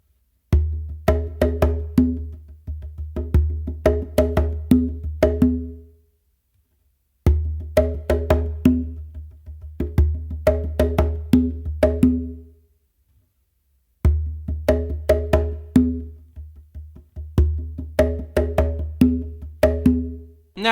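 A bomba/funk pattern played on bongo drums in three repeated bursts of quick, crisp hits with short pauses between them, close and loud, with no talking.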